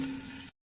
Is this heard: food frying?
yes